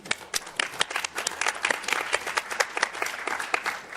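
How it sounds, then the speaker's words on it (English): Applause at a plenary session of the European Economic and Social Committee, steady hand clapping from an assembled audience filling the hall for a few seconds. "I think you deserve an applause."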